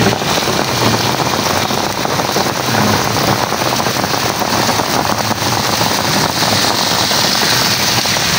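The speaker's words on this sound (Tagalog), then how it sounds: "Lakas ang ulan." Heavy rain pours steadily and loudly onto a roadside vending spot with a parked tricycle, a dense, unbroken hiss close to the microphone with no talking.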